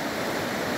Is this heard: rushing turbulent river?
yes